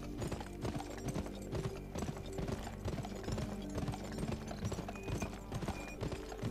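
Horse hooves clip-clopping in the video game GUN, a steady rhythmic trot of repeated hoof strikes at moderate volume with no talk over it.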